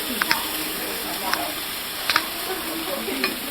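Food sizzling and frying on a propane camp stove, a steady soft hiss with a few faint clinks of stirring utensils, close by and moderately quiet, no talking.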